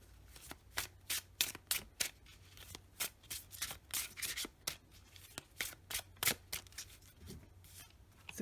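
Oracle cards being shuffled by hand, a close, quiet series of crisp riffling bursts in an uneven rhythm, roughly a dozen quick flutters with brief gaps between them.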